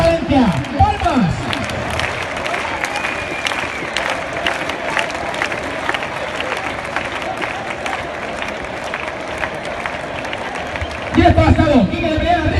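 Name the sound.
crowd clapping at Valencia bull-jumping contest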